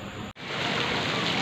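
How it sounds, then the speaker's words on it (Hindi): Heavy rain pours down outdoors in a village, a steady dense hiss that fills the short stretch, broken only by a brief dropout near the start. "बहुत तेज़ बारिश हो रही है"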